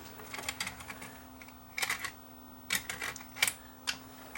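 A Sony DTC75ES DAT deck loads a tape with a run of light mechanical clicks and ticks in short clusters, close and fairly quiet, over a steady low hum.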